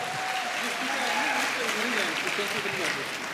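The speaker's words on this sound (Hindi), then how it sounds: "जोरदार तालियां" Steady, loud applause fills a hall at a leadership event, continuing throughout while a voice talks over it.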